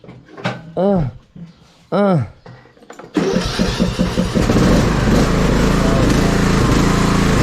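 Lawn mower engine cranks and starts after a few short pulls with voices between, then settles into a loud, steady near running roar that continues to the end.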